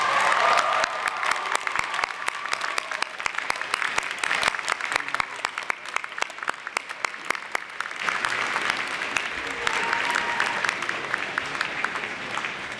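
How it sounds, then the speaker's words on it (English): A university convocation crowd gives long, steady applause for parents, family and friends, a dense wash of many clapping hands that holds at an even level throughout, with a short whistle early on. "giving them a big round of applause"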